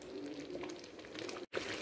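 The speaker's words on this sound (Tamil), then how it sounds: "2 நிமிஷம் நல்லா கொதிக்கட்டும்." Tamil-style ginger thokku (relish) simmers in oil in a pan, a soft, continuous bubbling sizzle held at a low level, with one very brief cut near the end.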